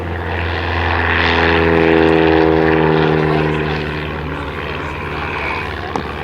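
A WWI triplane propeller aircraft circles in a dogfight at an airshow, its droning engine swelling louder as it passes near, then fading to a steadier distant hum.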